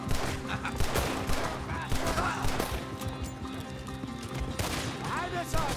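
Gunfire from a shootout in the Red Dead Redemption 2 video game, with dense, busy bursts running throughout alongside game music and effects, loud and continuous.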